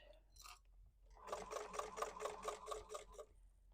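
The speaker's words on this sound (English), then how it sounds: "We're going to stitch all the way up" A sewing machine stitches a purse lining seam in a quiet room: a couple of short start-up whirs, then a close, rapid rhythmic stitching burst lasting about two seconds.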